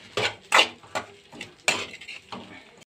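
Tomato pieces go into a pan for a prawn curry, with a handful of clattering utensil-on-pan hits and scraping stirs in irregular bursts, fairly close and without talk.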